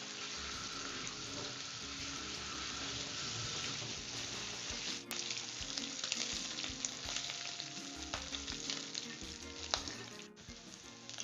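Prawns frying in hot oil for a Kerala-style prawn roast, a steady dense sizzle running the whole time, with occasional clinks and stirring noises and no talking.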